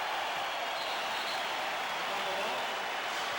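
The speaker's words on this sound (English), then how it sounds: "now the crowd will give the Bulls a standing ovation" A basketball arena crowd rises in a standing ovation for the Chicago Bulls during Game 6 of the 1989 NBA Eastern Conference Finals against the Detroit Pistons, a loud, dense, unbroken roar of cheering and applause throughout.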